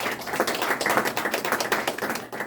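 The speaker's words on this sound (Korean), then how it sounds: "두 분에게 박수 한번 보내주세요" A group applauds a couple at a fathers' class session in a Korean community program, with dense, rapid clapping from many hands that runs steadily and fairly close, briefly thinning near the end.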